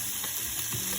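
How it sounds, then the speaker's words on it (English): Salmon fillet laid on a hot oiled plate sizzles in a brief, close, steady frying hiss. "So we're going to go ahead and add our salmon."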